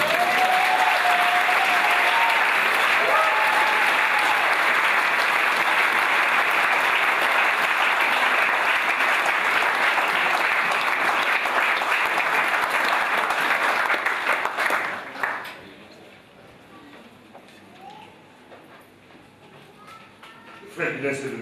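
A church congregation applauds in a loud, steady, sustained wash of clapping for about fifteen seconds, then it fades into quieter room sound with scattered voices.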